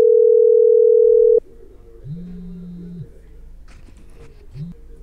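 A steady telephone tone plays loudly for over a second while calling Arjun, then cuts off and leaves a quiet line with faint rising tones and a low background hum.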